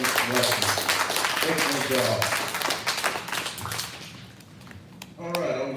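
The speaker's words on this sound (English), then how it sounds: "We give the sister one little round of applause." A small, brief round of applause for a woman at a religious gathering mixes with a man's speech, the claps thinning and fading before talk resumes loudly.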